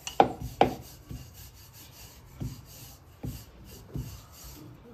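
A rolling pin works a rice-flour-dusted paratha on a wooden board. The clip holds soft rubbing and scraping strokes with a few sharper knocks, close and quiet, with no talking.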